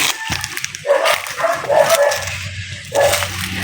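Dog barking outdoors near a rural spot where firewood is gathered, several short barks spread across the moment with background noise and no speech.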